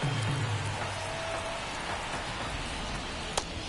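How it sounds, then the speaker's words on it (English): Rain falls steadily in a baseball video game broadcast, giving an even, continuous wash of noise with a faint tone partway through and a short sharp tick near the end. "It feels like we might be headed towards a rain delay if the weather doesn't ease up, Chris."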